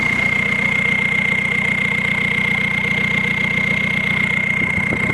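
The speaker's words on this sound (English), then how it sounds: "Listen to this whistle." A diesel Volkswagen Beetle idling after months unused, fitted with a semi-style exhaust stack, gives a steady low rumbling idle with a clear, constant turbo whistle riding on top, loud and close throughout.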